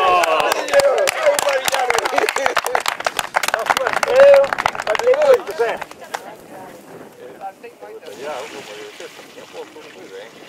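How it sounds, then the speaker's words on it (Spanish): Applause at a party anniversary celebration, a dense burst of clapping for several seconds that thins out and fades, with voices talking. "Aí, un aplauso."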